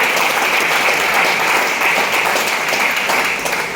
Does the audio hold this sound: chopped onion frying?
no